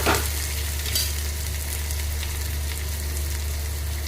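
Onion, ginger and garlic sauté in a pan with a steady close sizzle and a few stirring scrapes near the start, under a constant low hum, with no voices.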